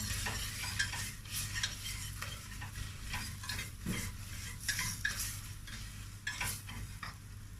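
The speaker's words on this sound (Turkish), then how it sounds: "Soğanları da mısır unuyla biraz soteleyeceğim." Onions and corn flour sauté in a pan for a soup, a soft steady sizzle with repeated scraping and stirring strokes of a utensil, close and fairly quiet.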